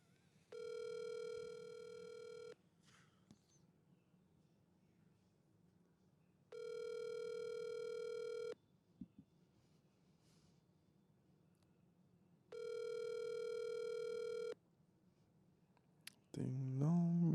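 An unanswered telephone call rings out in three long, evenly spaced bursts of a steady electronic ring tone, each about two seconds, with quiet gaps between them and a brief clatter at the end.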